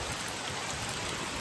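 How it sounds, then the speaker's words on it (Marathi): Steady rain falls in a constant, even hiss, a soft and unbroken patter with no voices. "तर पाऊस आलाय आणि आम्ही इथेच थांबलोय मध्येच"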